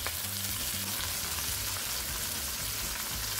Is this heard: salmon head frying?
yes